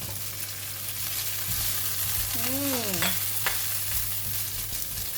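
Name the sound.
shrimp paste (belacan) and chili frying in oil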